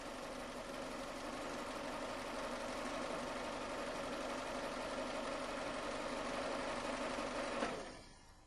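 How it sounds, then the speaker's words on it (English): A Toyota engine idles steadily during power steering service, a smooth, even mid-pitched hum with faint mechanical ticking that runs unbroken before tapering off at the end. "the engine idling, turn the steering wheel from lock to lock several times"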